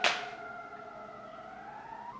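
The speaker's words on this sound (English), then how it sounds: "Please ignore the sirens" An emergency siren heard from outside, a sustained wailing tone that holds fairly steady and stays muffled and moderately distant, starting with a brief sharp sound and with no one talking.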